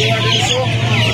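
Young chickens about a month old cluck loudly and continuously up close at a busy poultry market in Uluberia, Howrah, with a faint voice underneath.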